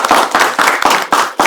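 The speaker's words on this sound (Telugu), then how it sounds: "Give him a big applause." Several loud, close hand claps in quick, uneven bursts from a small group at a New Year special chat show, sharp and percussive rather than a full crowd.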